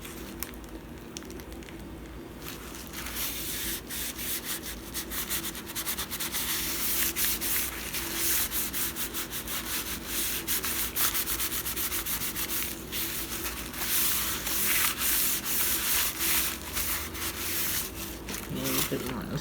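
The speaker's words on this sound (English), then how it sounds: "Get a napkin. Wipe up my excess glue." A paper napkin rubs and wipes over excess craft glue on a junk journal page, giving a close, continuous scratchy swishing with uneven strokes that grows busier partway through.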